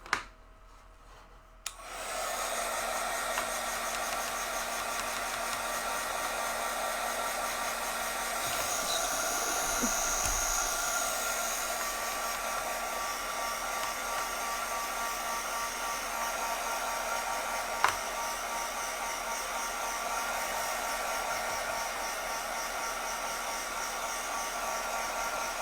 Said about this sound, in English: I'm going to dry it real quick with my drying tool.